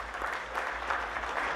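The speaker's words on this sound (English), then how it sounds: "Let's have a round of applause for them." Short burst of audience applause for a cricket team at a league player draft, steady clapping from a crowd held at an even level throughout.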